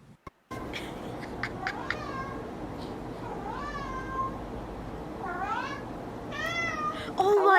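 A cat meows repeatedly in a series of drawn-out, rising and falling calls over steady background noise, with a louder burst near the end.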